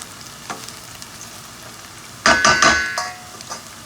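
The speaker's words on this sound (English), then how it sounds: "So this is my onion and garlic. I'm stir frying it to become golden color." Onion and garlic stir frying toward golden in a pan, sizzling with a faint hiss, then a louder burst of stirring and spatula scrapes midway, settling back to a steady fry.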